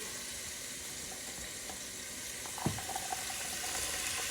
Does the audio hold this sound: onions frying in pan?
yes